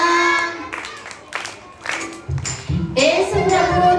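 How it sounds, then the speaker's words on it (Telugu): Children clapping along to a song at a church vacation Bible school puppet show, a few loose bursts of hand claps in the middle, then a voice begins singing. "చప్పట్లు కొట్టేది, అందరు గట్టిగా చేయండి"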